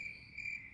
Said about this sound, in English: Just me and the crickets?